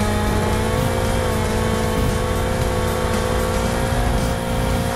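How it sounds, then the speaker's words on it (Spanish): A giant truck drifts in a police car demolition video game, giving a loud, continuous engine roar with rumbling low end and steady game noise throughout, no voices. "Vean, amigos, cómo derrapa este camión gigantesco que estoy utilizando."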